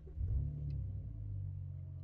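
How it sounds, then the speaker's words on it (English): A car engine turns over and catches, settling into a steady low idle rumble close by, with no voices over it. "I'm just gonna start my engine and see what happens on this one."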